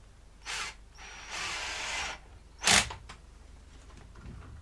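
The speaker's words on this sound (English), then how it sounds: "So we'll put the screw in." A screw is driven into a pedal mounting bracket: short bursts of whirring and ratcheting tool noise with pauses between them, close by, then a sharp loud clack. No voices.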